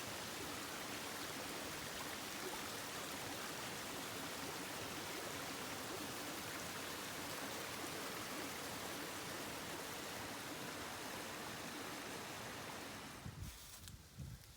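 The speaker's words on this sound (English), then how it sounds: "Really nice view of the water tumbling down the rocks here." Rushing creek water tumbling over rocks along a hiking trail in a state park, a steady broadband wash that holds nearly unchanged throughout, then cuts out abruptly near the end.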